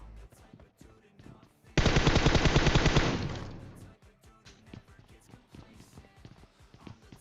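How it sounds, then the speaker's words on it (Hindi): Video game gunfire: one dense burst of rapid automatic shots, loud and close, lasting under two seconds, framed by quieter scattered in-game clicks and thuds. "अब मैं गोली चलाता हूं"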